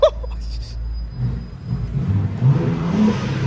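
A 2025 BMW M4 Competition xDrive convertible's engine rises in a few swelling revs, a close mid-pitched whir and rumble building unevenly after a brief opening sound, with no voices heard.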